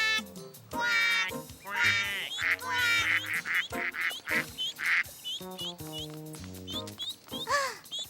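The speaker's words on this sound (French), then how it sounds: "Celui-là, c'est le papa canard." Cartoon duck quacks from the father duck of a duck family in a French children's animated show, a series of clear, close, rhythmic honking quacks with short pauses, set against a light musical background.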